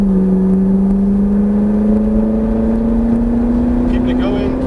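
A Ferrari 458 accelerates on a racing circuit, its engine note holding a strong steady drone that climbs gradually in pitch as the revs build, loud and close from the cabin.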